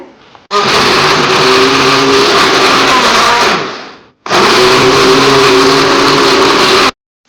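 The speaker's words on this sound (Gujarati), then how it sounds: "મિક્સરમાં ટામેટો અને જે લસણ ફોલેલું હતું એ લસણ નાખવાનું છે." A juicer run as a mixer grinds tomatoes and peeled garlic for a gravy: two loud, steady whirring bursts of about three seconds each, separated by a brief pause, close up and with no talking.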